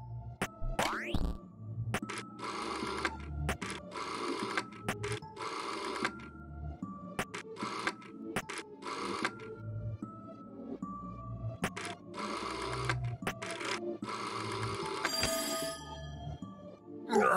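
An old-fashioned telephone bell rings in repeated bursts in the game There Is No Game, the ringing interrupted by electronic boings and glitchy effects, fairly loud and close with no voices over it.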